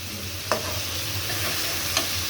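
Onion and prawns frying in a pan, a constant bright sizzle with two brief scraping stirs of a spoon, close and alone without talk.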